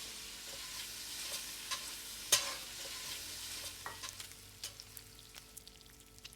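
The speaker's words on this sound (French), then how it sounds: "Alors là, nos oignons sont tout bien comme il faut. Ils ont bien fondu, bien réduit." Onions cooking down in a pan, giving a soft, quiet sizzle with scattered pops and utensil clicks, one sharper clack near the middle, no voices.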